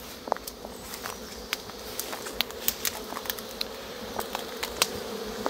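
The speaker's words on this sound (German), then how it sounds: "Beziehungsweise die Bienen haben Stau." Honeybees crowding at the entrances of Miniplus hives during a nectar flow, heard as a steady insect buzz with scattered sharp clicks and bumps from bees landing and crawling, close by and without speech.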